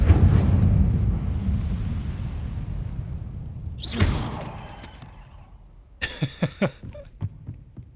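Incendio fire spell cast in the Hogwarts Legacy video game: a loud rushing roar that fades, then a sharp whooshing burst followed by several crackling pops.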